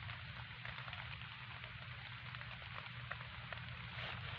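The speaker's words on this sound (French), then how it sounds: "Il pleut." Steady rain falls outdoors at night, a continuous broadband hiss with faint scattered drops and a low rumble underneath, with no voices.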